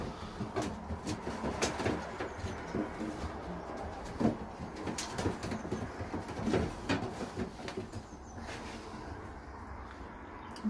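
Stock pigeons coo softly in a loft, low murmuring calls repeating under scattered clatter, shuffling and faint background noise.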